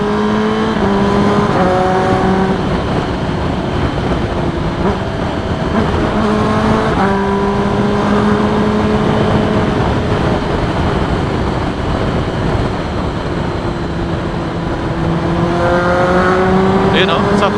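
A Kawasaki ZX10R sport motorcycle, remapped and dyno tuned, revs hard on a dyno with rising and falling engine pitch through repeated pulls, loud and close, while people talk underneath.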